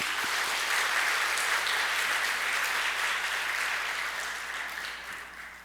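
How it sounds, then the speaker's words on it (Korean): A church congregation at a Sunday afternoon service applauds to welcome the pastor, a broad, sustained wash of clapping that fills the room and tapers off toward the end. "우리 최상목 목사님 박수로 환영합시다"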